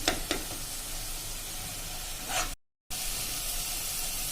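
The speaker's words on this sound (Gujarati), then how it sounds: "એટલે એકદમ સરસ આપણે 2 થી 3 મિનિટ આ રીતે સોતે કરવાની છે તેલ છૂટે ત્યાં સુધી." Garlic, chili and onion paste sautéing in oil in a pan for a Punjabi potato and capsicum curry, a steady close hissing sizzle with a few spoon scrapes, cut by a brief silence near the end, and no talking.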